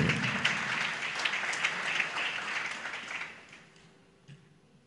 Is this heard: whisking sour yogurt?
no